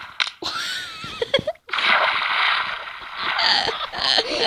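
A character leaps off a waterfall in a video game and hits the water with a heavy, close splash, then a sustained rush of churning water follows. A voice shouts briefly near the start.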